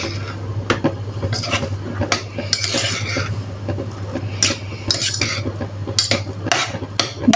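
Chicken, mushrooms and parsley are stirred in a pan, with a utensil repeatedly scraping and clinking against the metal over a low steady hum, close and moderately loud.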